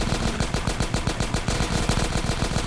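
The FAP weapon in Garry's Mod fires a fast, steady stream of close, punchy automatic shots that repeat evenly without pause.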